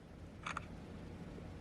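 A Samsung S22 Ultra phone camera shutter gives one quick, soft double click over a steady room hiss, close to the microphone and with no speech.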